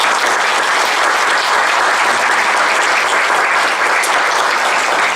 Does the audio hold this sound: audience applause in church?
yes